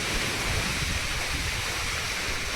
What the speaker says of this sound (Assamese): এইফালে ঢেৰেকণি আৰু এইফালে এয়া বৰষুণ